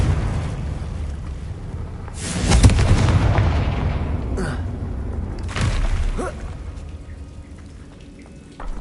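Fire spell explosions from Confringo in the video game Hogwarts Legacy boom out in a few heavy, rumbling blasts over a continuous noisy background, loud and close, with no talking.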